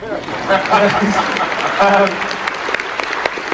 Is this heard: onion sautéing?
no